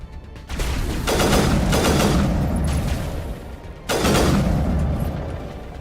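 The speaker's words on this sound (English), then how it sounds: "What sort of sniper rifle fires more than one bullet at a time?" Sniper rifle in the Mass Effect video game fires repeated loud, close shots. Broadband blasts sound around 0.5, 1.1, 1.7, 2.6 and 3.9 seconds, with their tails merging into a continuous booming barrage and no talking.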